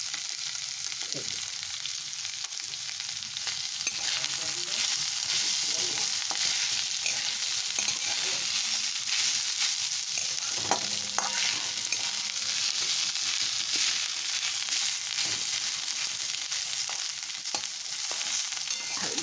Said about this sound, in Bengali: চিকেন তো সেদ্ধ হয়েছিল, একটু কষে নিলাম।